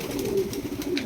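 Pet pigeons coo in a short, soft, low call, heard close by over faint background noise.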